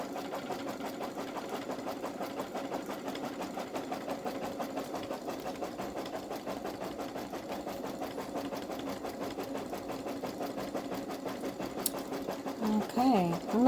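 A Babylock Solaris embroidery machine stitches out a design, its needle mechanism running in a fast, even, continuous whir at close range, with a few brief higher chirps near the end.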